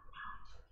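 A single sustained high whine from puppies confined in an outdoor kennel, fairly close and clear with no talk.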